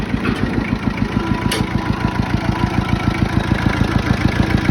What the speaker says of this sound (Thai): เครื่อง นิ่ม ๆ เลย เปิดดู เครื่อง กัน ครับ ผม